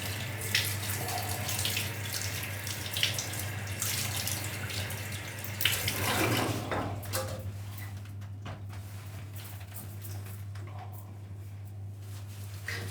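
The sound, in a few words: running tap water rinsing hair at salon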